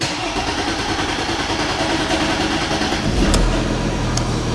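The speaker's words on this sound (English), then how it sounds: "Took a little bit of cranking then, didn't it?" A Mercedes ML350 engine cranks with a steady low churning, then catches near the end and settles into a louder rumbling idle.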